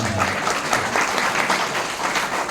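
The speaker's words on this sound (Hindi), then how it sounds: "मैं चाहूंगा दिल से इनके लिए एक बार दिल से तालियां हों" An audience applauds at a business team gathering, a continuous, even burst of many hands clapping at moderate loudness throughout.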